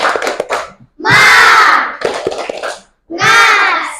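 Children in a classroom doing a rhythmic spirit clap, short patterned bursts of clapping alternating with loud group chanting, close and energetic.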